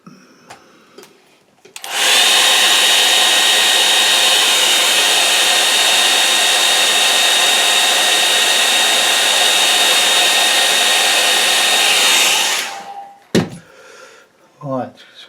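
A hair dryer blasts loudly for about ten seconds to dry a watercolour painting, starting and stopping abruptly, with brief handling clicks before and after.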